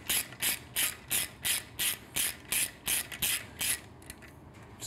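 A ratchet with a 6mm Allen hex bit tightens an exhaust bolt on a Triumph Street Twin, clicking in about a dozen quick, evenly spaced bursts up close, then slowing to a few lighter clicks.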